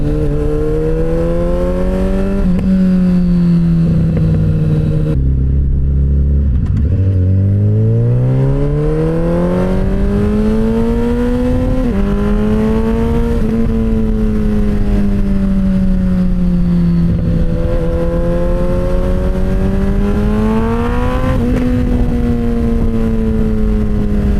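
A Suzuki Hayabusa motorcycle fitted with a new exhaust revs loud and close, its pitch rising and falling through repeated throttle blips, with a sharp dip and climb partway through and crackling pops between revs.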